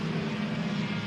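A pure stock race car at a feature event roars with a steady, droning engine and exhaust note at sustained volume, with no talk over it.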